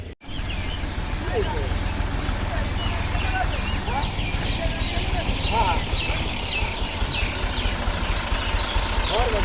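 A tractor ploughs a field in the Saraiki countryside, its engine a steady, loud, close rumble that runs throughout, with birds chirping and people talking over it.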